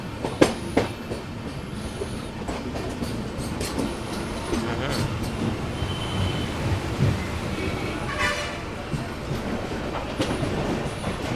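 The Thirukkural Express runs through rain, a dense continuous rumble and hiss of wheels and carriages with scattered clicks and squeaks from the track, steady and close throughout.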